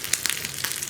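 Green chillies and curry leaves sautéing in hot ghee for an egg curry, a steady close crackling sizzle with small pops.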